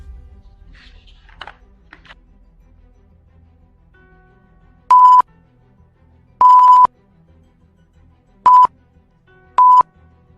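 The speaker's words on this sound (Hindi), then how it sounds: "सर्वर बीप कर रहा है" A server in a cartoon beeps to signal an incoming message, giving four loud electronic beeps at uneven intervals, some short and some drawn out, after a few faint chirps over a quiet background.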